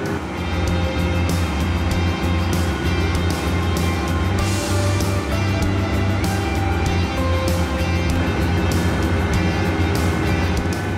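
A small Rostselmash RSM 370 tractor engine runs steadily and loudly close by, a constant mechanical drone with rattling, throughout.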